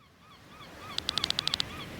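A bird in the fantasy role-playing game Chained Echoes gives a quick run of about eight bright, evenly spaced chirps. The call is clear and close over a soft ambient backdrop.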